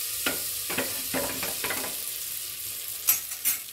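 Melted butter with turmeric powder in a pan, being swirled and stirred, makes soft sizzling with several distinct scraping strokes, close and unaccompanied by voices.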